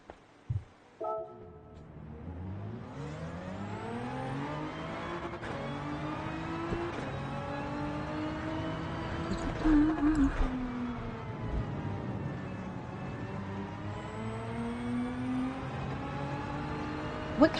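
A car engine in a video game drones and revs steadily with rising and falling pitch through several gear shifts, loud and continuous, with a brief horn-like tone near the start.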